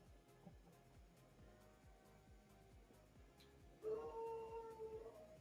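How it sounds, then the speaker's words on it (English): A dog howls from somewhere in a glassblowing studio, rising suddenly near the end as a wavering, drawn-out cry above a steady background roar and faint rhythmic ticking. "That would be my dog Fritz."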